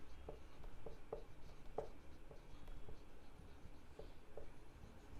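A pen or marker scratches out an answer during a class 9 algebra lesson on polynomials, with short irregular strokes and taps, faint and close, with no talk.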